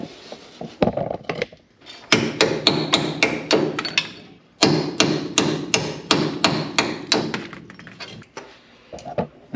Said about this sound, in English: we ended up having to cut these bolts to get that sway bar end link out of there. So I'm just gonna punch those through right now.